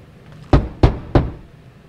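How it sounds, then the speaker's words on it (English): Three sharp knocks on a door in the Marvel's Guardians of the Galaxy video game, evenly spaced and close, each a hard thump over a low background hum. "Let me knock one more time."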